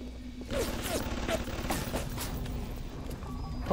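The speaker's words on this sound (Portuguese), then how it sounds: "Nossa, da onde vem esse tiro?" Gunfire in the video game Bioshock Remastered: a noisy, busy run of several sharp shots, some close and some farther off, over a steady rumble with a faint hum underneath.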